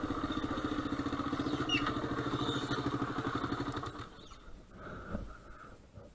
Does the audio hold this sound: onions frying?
no